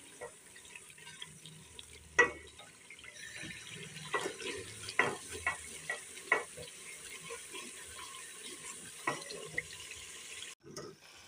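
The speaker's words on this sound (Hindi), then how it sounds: "अब हम इसे अच्छी तरह से भून लेंगे" Masala of tomato and green chilli being fried in a pan for a Pakistani-style ridge gourd dish, with a soft continuous sizzle under scattered spoon clinks and scrapes, ending in a brief louder clatter.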